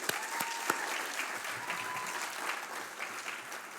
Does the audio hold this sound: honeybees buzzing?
no